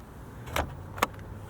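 The front trunk lid of a 2026 Polestar 4 closes with a soft thud and a sharper latch click about half a second later, close by and alone.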